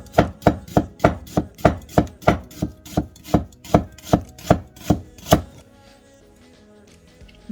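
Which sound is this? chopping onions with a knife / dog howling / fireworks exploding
chopping onions with a knife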